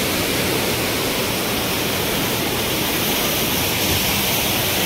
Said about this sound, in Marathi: हा धबधबा आहे, पाणी जास्त इकडनं सोडलं आहे